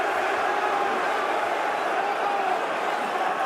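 UFC 328 arena crowd roaring for Sean Strickland during his fight with Khamzat Chimaev: a dense, continuous wall of crowd noise, loud and sustained throughout, with a commentator's voice faintly mixed in.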